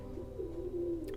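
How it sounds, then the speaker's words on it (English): Pigeon cooing in the background, a soft, low, steady rolling coo that runs under steady room noise through the whole moment. "I'm sure you hear the pigeon behind in the noise in the background"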